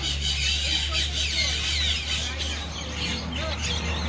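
Amazon parrots call at a bird park in St. Maarten, shrill squawks and chirps repeating over a steady low hum, fairly close and moderately loud.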